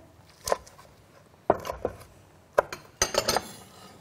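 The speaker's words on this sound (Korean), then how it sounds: "제가 먹기 좋은 크기로 좀 썰어 볼게요." A knife chops ingredients into bite-size pieces on a board: sharp separate knocks, then a quick cluster of cuts, close and fairly quiet.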